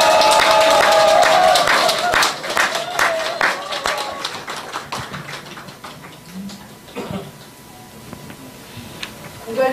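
Loud, dense applause from an audience at a Hanam campaign office opening ceremony rings out at first, then thins into scattered clapping and background crowd murmur.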